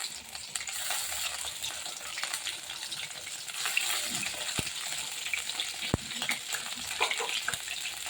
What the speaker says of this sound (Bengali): আমি একটু সরিষার তেল দিব চুলার মধ্যে দিয়ে কয়েকটি থেতো করা কাঁচামরিচ দিয়ে দিলাম